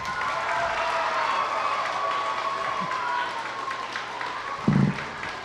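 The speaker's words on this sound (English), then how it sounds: "Give yourselves a round of applause." Audience at a school event claps in a steady broadband wash, with crowd noise and a voice heard over it.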